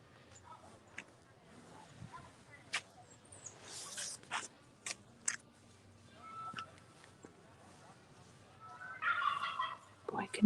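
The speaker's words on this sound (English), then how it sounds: "can you guys hear those turkeys?" Wild turkeys gobble outdoors at a nature center, faint and distant, with several short bursts scattered among quiet rustling and a louder call near the end.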